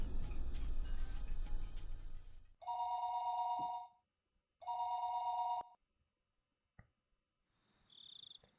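A telephone rings twice in the game Higurashi When They Cry, two sustained electronic rings separated by a short pause, following a burst of louder mixed game noise and ending with a faint high tone.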